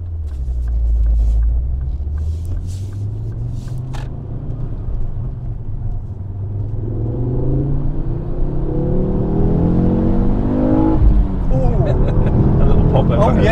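Ford Focus RS MK2 pulling hard from inside the cabin, a deep engine rumble climbing steadily in pitch through the gears, with a brief break around a shift, loud and continuous.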